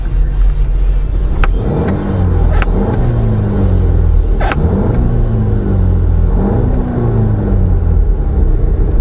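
A 2009 Volkswagen CC Sport engine revs repeatedly: three or four close, loud throttle blips that rise and fall in pitch over a steady idle rumble, with no talk.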